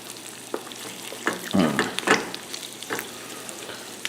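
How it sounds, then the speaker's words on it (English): A beef and bean quesadilla fries in a pan as the tortilla crisps and the cheese melts, a quiet close sizzle with a few louder crackles and scraping stirs. "crisping up the tortilla and melting that cheese"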